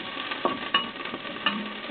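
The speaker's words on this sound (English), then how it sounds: "I just put the garlic and the onions. Saute them here" Garlic and onions sautéing in a pan for a tomato-based pork stew, a soft, steady sizzle with a few light clinks of a utensil against the pan.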